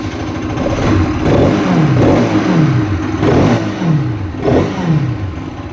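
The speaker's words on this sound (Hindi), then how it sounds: "बाइक का जो साउंड है वो चेंज नहीं हुआ है, उसी तरह का साउंड आपको बाइक प्रोड्यूस करते हुए नजर आएगी।" A 2025 Bajaj Pulsar RS 200 motorcycle engine running, loud and close, with repeated rev swells roughly every second over a steady idle rumble, no talk.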